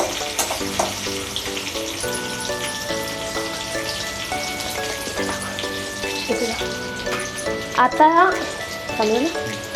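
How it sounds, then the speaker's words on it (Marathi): Green chillies frying in oil for sabudana khichdi, a continuous crackling sizzle heard beneath background music throughout, with a few louder spattering bursts near the end. "त्याच्यामध्ये मिरची टाकून घेणार आहोत। मिरची पूर्ण भाजून द्यायची आहे आपल्याला"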